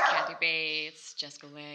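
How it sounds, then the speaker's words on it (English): A puppy yips and barks in a few short bursts close by, heard under and between a person's speech. "so if you hear dog noises and jingling in the background."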